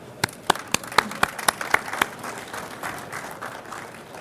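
An audience applauds to welcome a speaker at a business-systems briefing. Loud, sharp claps ring out at first, then settle into steady applause that carries on throughout the stretch.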